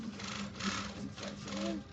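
A Mitsubishi Japanese sewing machine stitches cloth with a quiet, fast mechanical whir and clatter over about two seconds, heard fairly close with no talk over it.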